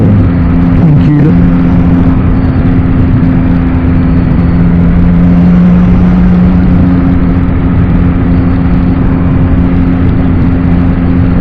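A Yamaha MT-09 motorcycle riding on a road through Corrèze, with a loud, steady engine drone and heavy wind roar throughout.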